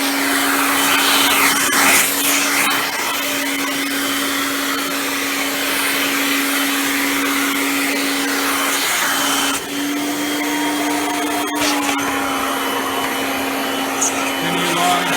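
A Kirby G6 2001 Limited Edition upright vacuum cleaner runs close by with a loud, constant motor whine and airy rush, a steady hum throughout broken by a few brief clicks and shifts in pitch near the end.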